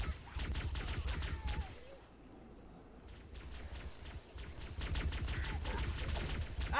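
Gunfire rattles in the shooter Halo: Combat Evolved, with dense bursts of rapid shots up close, a brief quieter lull in the middle, then the firing resumes.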